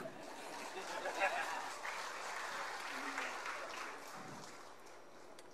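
Audience at a clergy concert in Manila clapping, a broad, sustained wash of applause from a large crowd that slowly fades, with faint chatter underneath.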